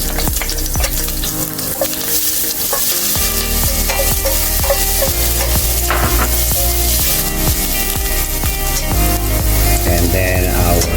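Minced garlic frying in hot oil for a red snapper escabeche, a loud, steady sizzle filling the whole stretch with bursts of crackle and stirring, no talk over it.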